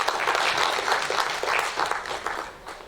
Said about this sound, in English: I think if we can just give them a round of applause.